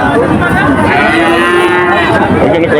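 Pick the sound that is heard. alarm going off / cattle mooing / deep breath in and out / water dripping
cattle mooing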